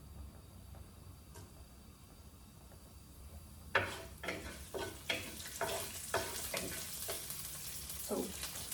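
Cumin and green chillies sizzle in a hot pan for chicken curry, starting partway through with sudden loud crackling, then repeated stirring scrapes and spattering, close up.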